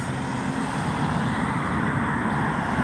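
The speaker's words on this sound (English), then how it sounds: "Let the car cross." A car rolls past on an outdoor road, a steady broadband traffic rumble that stays loud and continuous with no talking.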